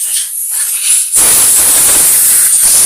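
Compressed air blasts onto a Briggs and Stratton tank-mounted carburettor, a loud steady hiss that kicks in abruptly after a quieter fainter start and holds to the end.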